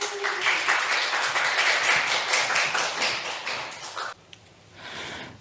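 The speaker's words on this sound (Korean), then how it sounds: "박수, 큰 박수 부탁드리도록 하겠습니다" A church youth-service congregation gives a big round of applause to welcome a first-time preacher, dense steady clapping for about four seconds that then cuts off abruptly, leaving a quiet room with a faint stir near the end.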